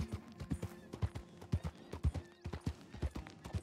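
Steady clip-clop of a mare's hooves trotting at a regular rhythm in the video game Red Dead Redemption, close by, with a brief whinny rising over the footfalls.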